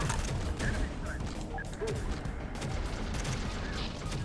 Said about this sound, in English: God, I love my artillery.